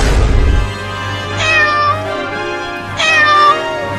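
A cat meows twice, loud and near, each cry rising and falling, separated by a short gap.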